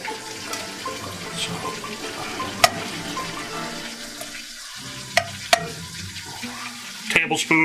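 Onion and minced garlic frying in oil for an Italian chicken cacciatore, giving a steady close sizzle broken by a few sharp utensil clicks against the pan.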